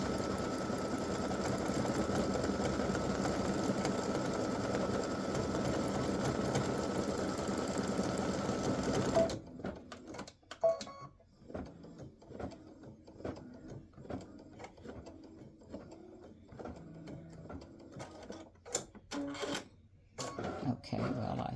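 An embroidery machine stitches an appliqué design with a steady, buzzing hum for about nine seconds, then stops, leaving scattered clicks, handling noises and soft movement.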